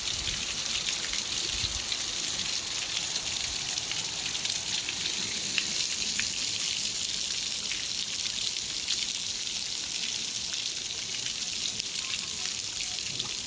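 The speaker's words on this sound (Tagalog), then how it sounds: "Nakakatuwa yung bagsak ng ulan." Steady rain comes down in a quiet mountain setting, an even, crackling patter of drops hitting surfaces that carries on at moderate volume throughout.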